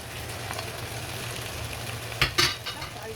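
Potatoes and beef are stirred in a pot for chicken sinigang, with a soft continuous sizzle and a few scraping utensil clatters near the end, close and alone.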